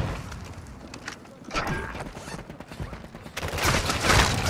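Gunfire rattles in a battle royale video game, with scattered shots and bursts at a moderate distance that swell into a denser, louder volley near the end. Game ambience runs underneath.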